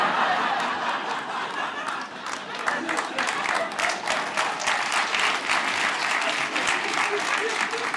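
Audience applause, a dense patter of many hands clapping at moderate distance, steady for several seconds with light chuckles and murmurs mixed in.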